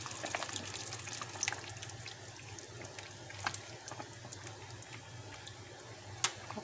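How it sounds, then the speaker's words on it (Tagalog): Coco Mama coconut milk pours into a pan of beans for Bicol express, a faint continuous liquid trickle with small splashes and ticks in a quiet kitchen. "So ilagay na natin ang gata."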